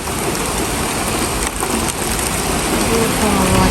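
Rain pouring down in wind, a loud, dense and continuous wash of noise that stays close and even for a few seconds, with a brief dip partway through.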